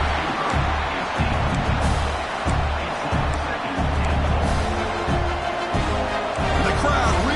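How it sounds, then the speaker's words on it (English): A football stadium crowd roars steadily near the goal line, a loud, unbroken wash of cheering with a commentator's voice running underneath. "the crowd really making some noise now, trying to help out this defense to get this stop near the goal line"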